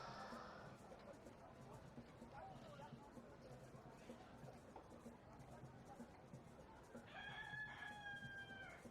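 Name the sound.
rooster crowing in the background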